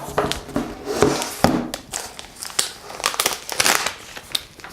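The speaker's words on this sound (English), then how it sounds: "let's have a little look inside and unwrap the Huawei Matebook X Pro" Packaging around a Huawei Matebook X Pro laptop crinkles and rustles as it is unwrapped, with irregular taps, crackles and sharp handling sounds close by.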